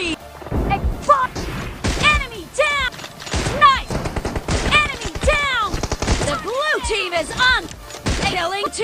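Gunfire in PUBG Mobile team deathmatch with an M24 sniper rifle: repeated sharp shots and bursts run throughout, loud and close, mixed with game announcer voice lines and chirpy effect sounds.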